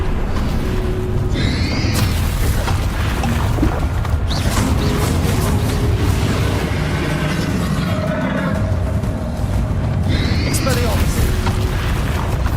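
Spell explosions from a Harry Potter video game, a run of deep booming blasts and crashing bursts with magical whooshes, loud and continuous under shouted spell incantations.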